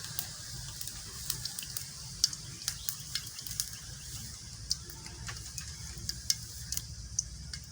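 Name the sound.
cumin seeds sizzling in hot oil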